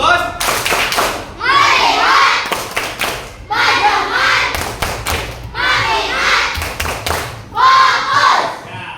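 Schoolchildren in an Indonesian classroom perform the rhythmic tepuk fokus clap, with loud bursts of patterned clapping and thumps alternating with the group chanting together in unison.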